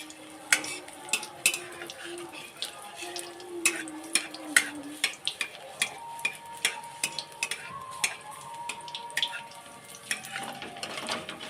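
Gram-flour-battered green pea chops frying in hot oil in a wok, with a steady sizzle broken by repeated scraping and clinking as a utensil turns them.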